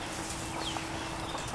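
Hens in a backyard flock without roosters fight and cluck, making small squawks and clucks over a steady outdoor background, fairly faint and close together.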